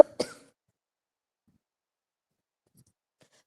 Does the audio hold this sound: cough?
yes